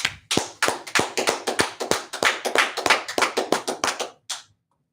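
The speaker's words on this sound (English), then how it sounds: "Let's clap it up." At the end of an online scripture class, one person claps about twenty times in a quick, steady rhythm, crisp and close, before stopping to silence.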